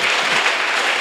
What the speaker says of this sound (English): A round of applause. Standing ovation, I can see that.